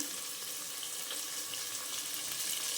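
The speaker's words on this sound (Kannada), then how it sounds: "ಲಂಚ್ ಬಾಕ್ಸ್ಗಳಿಗೆಲ್ಲ ನೀರು ಹಿಡ್ಕೊ ಹೋಗು" Tap water runs steadily into lunch boxes in a home kitchen, a close, even rush of splashing water that continues without a break.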